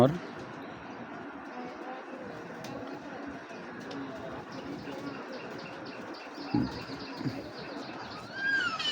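Pigeons coo softly throughout at a Giribaz pigeon collection, a steady low murmur with occasional chirps and wing flutters, nearby and moderate in level under ongoing talk.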